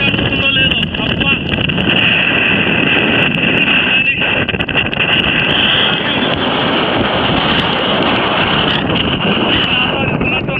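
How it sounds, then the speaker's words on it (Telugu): Strong wind blows across a foggy hilltop near Lonavala, roaring and buffeting loudly and continuously against the microphone throughout. "చూడండి, గాలి అయితే లాగేస్తూ ఉంది"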